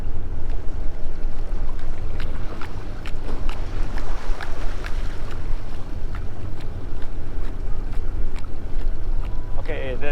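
Steady wind buffeting a fishing boat out at sea near Luconia Shoal, a loud continuous rush with hull and water noise and occasional knocks throughout.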